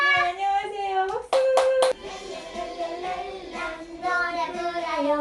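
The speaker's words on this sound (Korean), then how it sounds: "박수 치고" A few quick hand claps at a home-made kindergarten-style music session, sounding sharply between an adult's sung and spoken lines, with singing around them.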